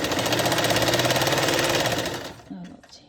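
A sewing machine runs a fast, even stitching rattle along a salwar seam for about two seconds, close and loud, then stops, and a brief voice follows.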